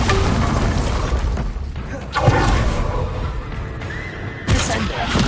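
A Bombarda blasting spell in Hogwarts Legacy goes off amid game noise: a sharp crashing boom with shattering debris near the middle, another impact burst toward the end, and a voice speaking around it.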